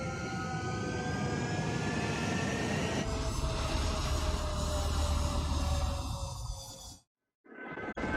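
Jet aircraft roaring on takeoff in the video game Ace Combat 7, a loud sustained engine whine with rising tones that cuts off abruptly near the end, then returns faintly.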